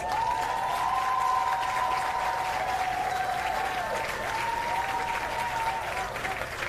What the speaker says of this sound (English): And a rousing round of applause for Lorenzo Dowse, his father there on screen receiving that award, bestowed posthumously.